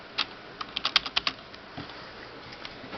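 Keys clack on a computer keyboard with small keys and short stands, a quiet, close, irregular burst of taps with no talk.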